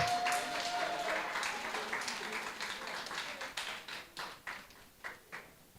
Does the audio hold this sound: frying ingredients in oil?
no